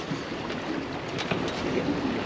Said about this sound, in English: The waves like to kind of break against the ledge and then roll into the bay.